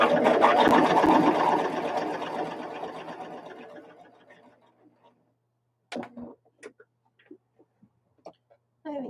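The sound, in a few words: sewing machine stitching quilt pieces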